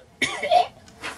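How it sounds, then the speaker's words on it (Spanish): A single close, throaty cough, short and forceful, followed by a softer breathy exhale. "denme un segundo porque tengo que toser"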